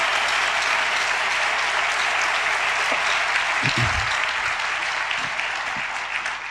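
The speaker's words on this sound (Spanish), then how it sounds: "Démosle un aplauso fuerte al Señor." A church congregation claps loudly in sustained, dense applause that stays steady throughout and eases slightly toward the end, with a few faint voices in the crowd.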